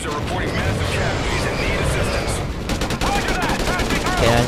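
Call of Duty: Ghosts gameplay fills the scene with rapid, dense automatic gunfire, loud and continuous bursts overlapping with battle noise throughout.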